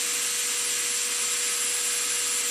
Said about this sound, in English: turn the motor on. Higher speed is typically better.